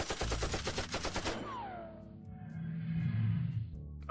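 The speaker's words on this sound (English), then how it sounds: "Shoot it, Killroy! Shoot it dead" Rapid gunfire from a machine gun in a video game, fired at a ghost, rattles loudly in quick repeated bursts for about a second and a half, then gives way to a whooshing ghostly tone and low hum.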